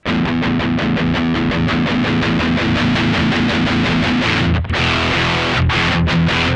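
Electric guitar played through a BOSS DS-1 distortion pedal set to heavy gain, a loud, dense stream of sustained, saturated chords with a brief dropout near the end, no voices.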